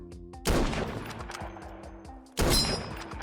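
Pistol shots in the online shooter Krunker: two sharp, loud blasts about two seconds apart, each followed by a decaying ring and echo, with game tones humming underneath.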